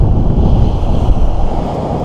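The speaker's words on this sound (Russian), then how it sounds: "когда ветрюга так задувает" A strong wind roars steadily across a seashore on the autumn Baltic coast, loud and continuous with a low rumble of buffeting and surf throughout.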